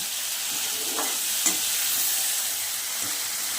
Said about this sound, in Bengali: এবার আমি মৌরলা মাছগুলো ঢেলে দেব। দেখুন, দিয়ে একটু নেড়ে চেড়ে নেব